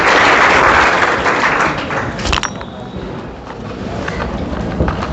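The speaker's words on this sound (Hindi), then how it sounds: "छोटा सा ताली बजा लीजिए।" An audience applauds in an inter college hall, dense clapping that is loud at first and then thins and fades over several seconds.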